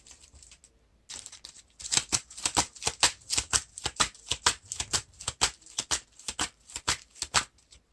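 Cards being shuffled back into a deck during a Lord of the Rings card game, heard as a rapid, close run of crisp riffling flicks after a brief quiet start, with no talk.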